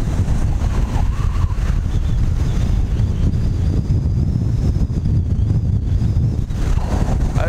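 Strong, steady wind of around 30 knots buffets the microphone on a beach at Wremen during a kitesurfing session, a loud continuous roar with surf rumbling underneath throughout.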